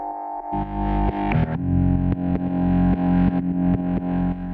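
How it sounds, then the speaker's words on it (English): Heavily distorted, gritty bass notes pulse in a steady rhythm, loud and saturated with a buzzing edge from a Decapitator distortion plugin. "I decided to put a decapitator on it for the break, which is a distortion I like"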